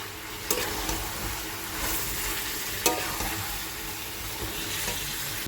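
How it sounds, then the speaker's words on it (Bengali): Chicken sautéing with sour yogurt and spices in a pan, a steady close sizzle with a few sharp spoon scrapes as it is stirred, and no talk. "দেখো এইদিকে চিকেনটা কষানো হচ্ছে"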